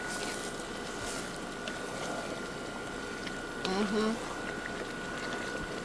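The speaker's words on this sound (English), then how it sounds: "So I'm going to cover it and give it some few more minutes to boil" A covered pot simmering and bubbling steadily on the stove, a low continuous boil with a faint hum, while a voice talks over it at moderate level.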